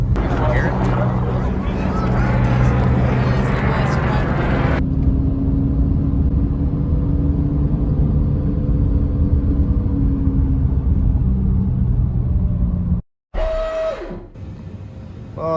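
A defective rear wheel ball bearing on a Subaru drones like an airplane while driving, a steady low rumbling hum under road noise, with a person talking over it at first and a brief cut near the end.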